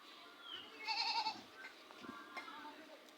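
Goats tethered in a village cowshed bleat once, clearly, near the middle. A softer call follows amid quiet rural background, with no one speaking.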